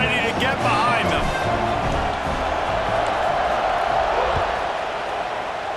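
A stadium crowd roars in EA Sports College Football 26, with steady, dense crowd noise heard under a voice.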